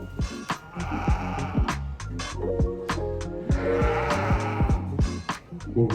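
Several sheep bleat repeatedly, overlapping calls close by, loud and wavering, with busy crowd or barn noise underneath, at a sheep and wool festival show ring with Suffolk sheep.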